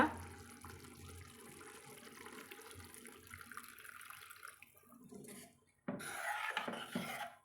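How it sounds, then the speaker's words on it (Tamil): Water pours and splashes into a metal pot of tamarind and pepper-tomato curry, a low rushing stream that stops, then a brighter splash follows briefly near the end. "இப்போ நம்ம தேவையான அளவு வந்து தண்ணி சேர்த்துக்கலாங்க"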